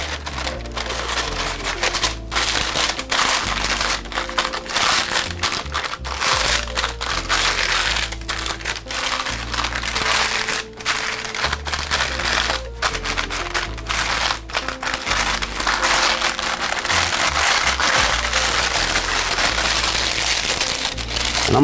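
Parchment paper crinkles and crackles as it is rolled up in a kitchen, giving dense, continuous, rustling bursts at close range that last the whole stretch.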